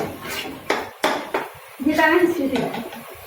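Eggs being fried and stirred in a pan, with a spatula knocking and scraping against the metal in a few distinct hits, while a voice talks over the clatter.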